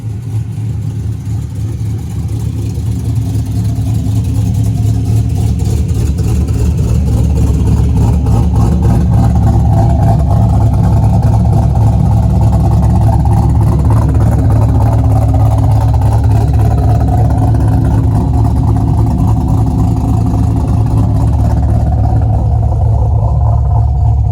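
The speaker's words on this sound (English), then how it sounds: "Alright, guys, what you guys just heard, it was my car idling," An F-body car with a swapped camshaft idles loudly and close, a deep, lumpy, pulsing exhaust rumble that holds steady for the whole stretch before cutting off near the end.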